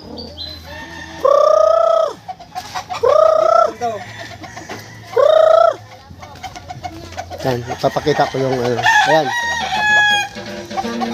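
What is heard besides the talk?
chickens clucking and rooster crowing on a farm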